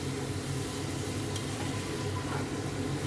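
Chicken with garlic and ginger fries loudly in a pan, a dense, continuous sizzle with stirring close by and no talking.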